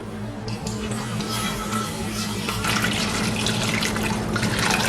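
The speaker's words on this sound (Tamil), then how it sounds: "இந்த தண்ணி இதில் விடுவோம்." About 500 ml of water pours steadily into a cooking pot of gooseberries for jam, a close, continuous splashing stream that grows slightly fuller toward the end.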